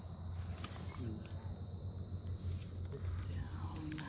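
Insects chirp in a West Texas desert at night, a steady high-pitched drone running the whole time over a low rumbling hum, with a few faint clicks and no voices heard.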